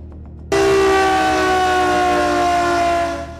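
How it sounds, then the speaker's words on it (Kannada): A civil defence air raid siren sounds during a mock drill, starting abruptly after a brief quiet moment and holding a loud, steady wailing tone that fades slightly toward the end. "ಸೈರನ್ ಮೊಳಗಲಿದೆ"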